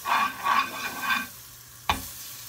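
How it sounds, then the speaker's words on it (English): Butter sizzles in a frying pan while an omelette is being made, a loud frying hiss in three surges that fades, then one sharp clatter near the end. "Can you see how much that is sizzling?"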